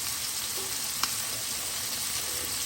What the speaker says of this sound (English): So all I'm going to do here is give a very, very quick sear on the fish